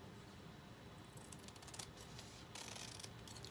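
Scissors cut through dress fabric close by, a soft run of quiet snipping and rustling strokes with a slightly busier burst near the end.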